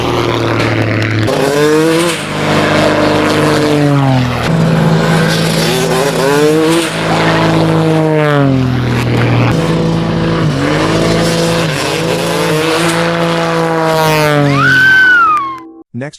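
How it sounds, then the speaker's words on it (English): A motocross motorcycle jumps over a flying plane for a freestyle stunt, its engine revving hard in repeated rising and falling bursts, loud and close throughout, ending in a sharp high whine. "Cody Elkins jumped his motorcycle over a flying plane with freestyle tricks for the motocross film Children of the Dirt 2."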